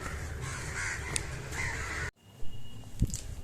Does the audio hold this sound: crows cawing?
yes